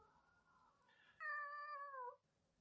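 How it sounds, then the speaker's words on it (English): A cat meows once, a clear drawn-out cry rising out of quiet room tone and fading, close to the microphone with no talk. "Fucking cat."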